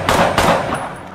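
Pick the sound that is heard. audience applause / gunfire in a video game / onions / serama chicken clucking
gunfire in a video game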